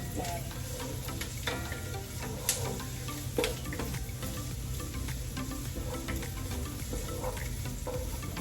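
Garlic sautéing in a pan, a steady soft sizzle with small crackles and pops throughout, close and fairly quiet.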